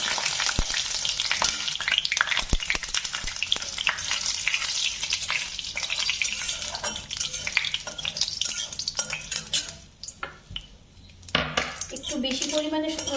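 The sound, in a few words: spices frying in hot oil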